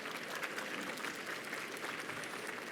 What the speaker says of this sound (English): Let's give all our brands a round of applause.